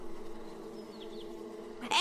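Bees buzz in a faint, steady, low drone that continues for about two seconds before a sudden louder rustle cuts in at the end.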